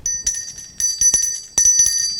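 A small bell rung in three separate bursts, each a bright, close, loud metallic ringing with short decay and quiet gaps between, no talking.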